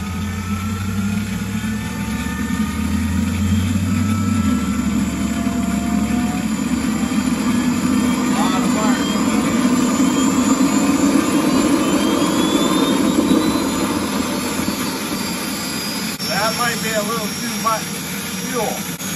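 A Jakadofsky Pro Edition jet turbine engine starting with fuel trouble: a steady, loud roaring whine with rising tonal pitch sweeps that continues throughout, close up, with a brief low rumble at the start.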